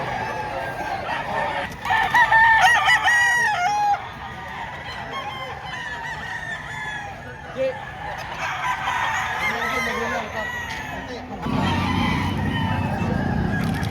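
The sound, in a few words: rooster crowing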